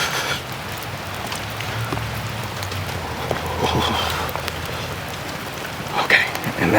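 Steady rain pours on a person taking an outdoor ice bath, a dense broadband hiss with scattered drops and splashes throughout, fairly loud and close, with a faint voice briefly underneath.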